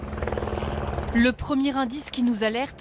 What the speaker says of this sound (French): c'est un hélicoptère en vol stationnaire au-dessus de cette banlieue pavillonnaire de Chicago